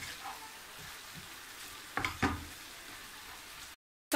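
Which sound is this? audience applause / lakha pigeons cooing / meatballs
meatballs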